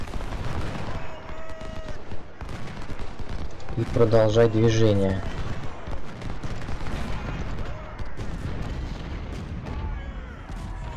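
Musket volleys and artillery fire from the Ultimate General: Civil War battle of Winchester, heard as booming gunfire bursts with a dense loud cluster near the middle, mixed under almost continuous talk by a male player.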